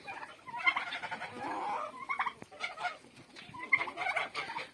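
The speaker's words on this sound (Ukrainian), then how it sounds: "Е, індики це порода червоний бурбон." Young Red Bourbon turkeys gobble and chickens cluck in a busy farmyard chorus at morning feeding, overlapping calls near and far with no talking.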